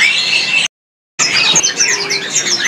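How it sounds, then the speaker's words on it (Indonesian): A male sunbird sings rapid, high-pitched song with busy chirps and trills, close and steady, broken by a brief gap of silence partway through, at a bird market. "Kolibri bulung ini terpantau yang jantan, terus posisinya lagi berbunyi di atas tuh."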